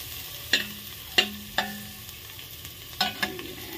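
Garlic is dropped into a little hot oil in a pan for chicken soup and sizzles softly. A few sharp clinks of stirring interrupt the faint, steady frying, with no voices.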